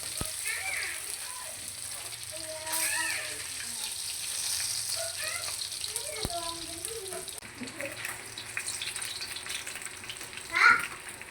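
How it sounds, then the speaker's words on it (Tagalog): Steady sizzle of fish frying in hot oil runs throughout, with occasional clinks and a brief louder clatter near the end. "Natin prito yung isda ngayon."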